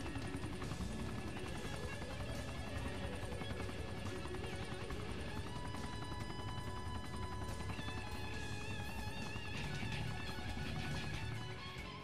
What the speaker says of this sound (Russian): на базе всегда доступен казенный вертолет, который вывезет из пекла и доставит куда просят